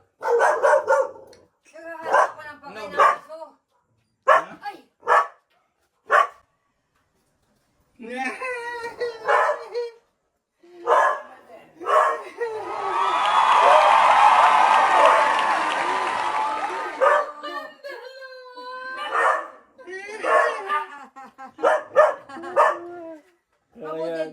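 Several dogs bark in short bursts amid lively talk, with a sustained noisy stretch in the middle that sounds like a crowd or loud commotion; voices recur throughout.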